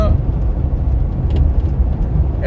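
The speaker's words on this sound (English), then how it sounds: "And now the car in front of me is slowing down." Car traffic crosses a bridge, heard from inside a moving car as a continuous loud low road rumble with engine noise throughout.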